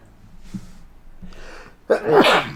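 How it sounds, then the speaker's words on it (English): A couple of quiet inhaling breaths build up, then one loud, close sneeze bursts out at the end. "Oh, I think I have to sneeze again."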